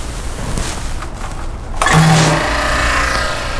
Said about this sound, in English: I'll go ahead and turn on the vacuum